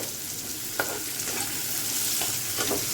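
Onions, garlic, ginger and garam masala fry in a pan with a steady close sizzle and a few soft stirring scrapes, no talking.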